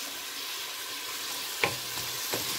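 Onions frying in oil in a pan for salmon sinigang, a steady broadband sizzle with a couple of sharp utensil clacks partway through, close and moderately loud.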